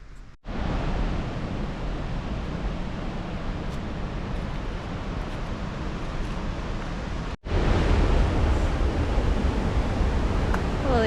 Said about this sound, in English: This waterfall is awesome